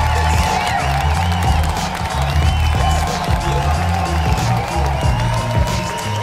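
Audience at a comedy show at the Palais des Glaces cheering and applauding, a crowd roar with clapping over steady background music.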